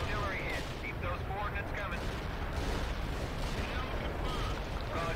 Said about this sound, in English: All units fire at will.